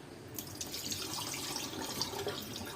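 Water pours and splashes in a steady trickle, close by, starting abruptly and running continuously.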